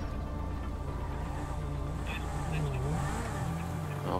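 A car engine in the GTA Online video game hums and revs steadily at moderate loudness, with someone speaking German over it and a brief squeal near the end.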